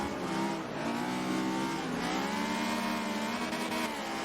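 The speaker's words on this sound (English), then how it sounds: "Stixie running an S2000, very quick car." A Honda S2000 race car engine in the Forza Motorsport 7 racing game, revving hard and continuously through gear changes, loud and alone with no talk.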